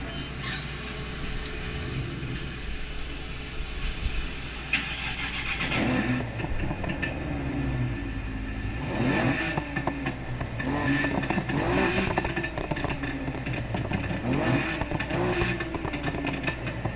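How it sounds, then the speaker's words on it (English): A high-performance car with a modified engine of about 560 horsepower, likely a Corvette C7 or Camaro, idles and then is revved in several rising and falling bursts, loud and close. "I'll do a little revving so you can hear the revving, a little bit of it."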